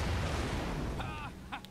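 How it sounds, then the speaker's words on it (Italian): Explosions in the Ratchet & Clank video game produce a loud, dense low rumble that fades, followed by short tonal game effects. "Adoro le grosse esplosioni."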